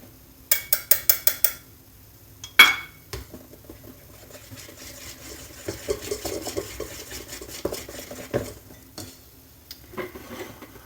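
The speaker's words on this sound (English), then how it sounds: "Whisk the eggs until they get a little fluffy and white." Eggs whisked in a bowl for a homemade chocolate pudding: a quick run of rapid metallic taps against the bowl, then a clattering knock and softer, uneven scraping and stirring.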